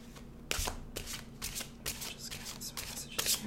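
Quick bursts of playing cards being shuffled, about seven riffles in a row, close and crisp against a quiet background.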